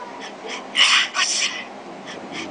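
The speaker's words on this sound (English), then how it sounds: "These are different sneezing sounds" Recorded sneezes played back from a sneeze-machine phone app, two loud bursts in quick succession among softer breathy snorts, close and clear with no talk.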